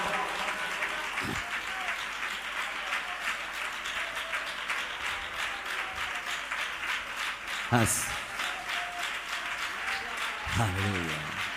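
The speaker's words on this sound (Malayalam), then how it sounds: "ഇന്ന് കൈയടിച്ച ശക്തിയോടെ ദൈവത്തെ സ്തുതിച്ചേ" A church congregation claps hands in praise during a service, a dense, steady wash of applause running throughout with brief voices rising over it.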